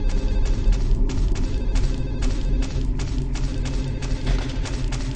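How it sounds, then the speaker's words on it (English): A telephone rings over and over inside the video game Silent Hill 4, the repeating electronic bursts pulsing steadily over a heavy low droning background, with no voices. "That phone just keeps ringing, doesn't it?"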